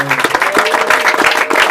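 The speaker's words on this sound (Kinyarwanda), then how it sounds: "tumukomere amashyi umwami" A church congregation clapping at a service, with quick rhythmic claps over singing or voices, loud and close for a brief burst.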